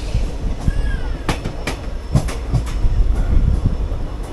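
A passenger train, no. 14736, running on a single-track line between Patiala and Abohar, with a steady low rumble of wheels and several sharp rail clicks at uneven intervals, heard close from on board.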